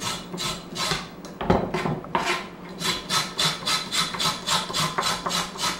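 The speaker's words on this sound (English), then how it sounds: "I'm just using the back of my knife to scrape the skin off" The back of a knife scrapes the skin off a carrot, a rhythmic series of rasping strokes at a steady pace, close and fairly loud with a few irregular scrapes early on and no talking.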